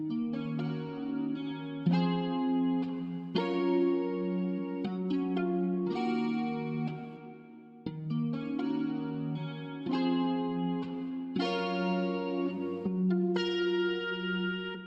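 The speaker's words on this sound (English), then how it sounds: "I added this guitar section that I played out on my electric guitar" An electric guitar plays a smooth R&B chord progression through reverb, compressor and chorus effects, strummed chords ringing in regular phrases with a shimmering, wide sustain.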